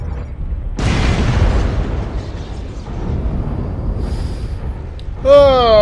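Missile explosions slam into a mech in MechWarrior Online: one loud, close boom with a long rumbling decay that fades over several seconds, then a voice speaks briefly at the end.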